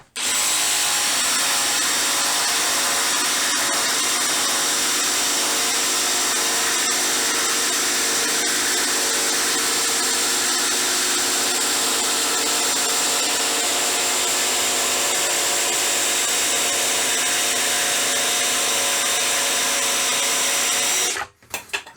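An Einhell TP-JST 18/135 Li BL brushless cordless jigsaw cuts along a marked line, giving one long, steady, loud rasping whine that stops abruptly at the end.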